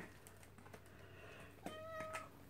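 A cat gives a short meow near the end amid quiet scattered tapping and rustling sounds, faint and close by.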